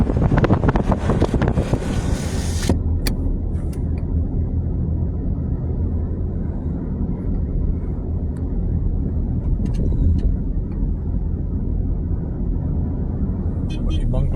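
Steady wind rush and road rumble through an open car window while driving past rice fields, loud and continuous, starting with a brief burst of louder noise as the window opens.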